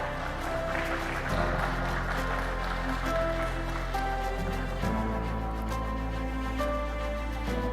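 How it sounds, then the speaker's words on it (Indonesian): A crowd claps steadily at an Indonesia Stock Exchange IPO ceremony for PT Famon Awal Bros Sedaya Tbk, a soft, continuous patter of applause mixed with sustained background music throughout. "Mari kita berikan tepuk tangan yang meriah."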